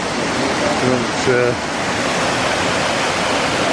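Steady broadband rush of a small waterfall close by on a Lake District ramble near Elterwater, loud and constant throughout, with a brief voice over it early on.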